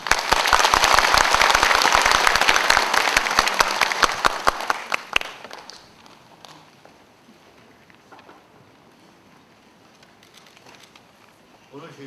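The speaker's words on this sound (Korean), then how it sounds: "박수를 부탁드립니다" Loud, dense applause fills a memorial ceremony for a patriotic martyr, then dies away after about five seconds, leaving quiet room noise and faint talk.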